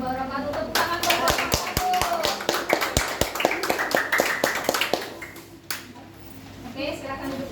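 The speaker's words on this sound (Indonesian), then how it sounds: "Tepuk tangan kelompok" A classroom group claps for classmates who have just finished presenting, a burst of sharp, fairly close hand claps that thins out after a few seconds, with voices talking underneath.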